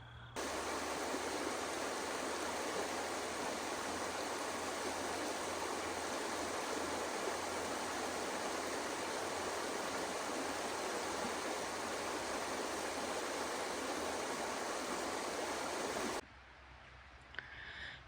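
The Tobacco River in Montana, just over the Canadian border, rushes steadily for nearly all of the clip as a dense, broadband flow of water, then cuts off abruptly near the end.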